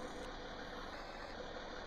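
An old tractor engine idles steadily in Farming Simulator 19, a continuous low, even rumble with a faint high whine held at one level throughout and no voices.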